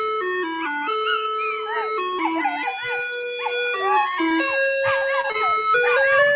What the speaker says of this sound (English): The dog knows what the ice cream truck sound means.